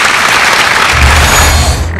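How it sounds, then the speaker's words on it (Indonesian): A studio audience on a televised health talk show applauds loudly and steadily for Professor Dr. Yusuf, a dense, continuous clapping that holds for about two seconds. "Beri tepuk tangan untuk Profesor Dr. Yusuf."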